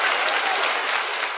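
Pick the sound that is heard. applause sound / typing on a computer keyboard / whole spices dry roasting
applause sound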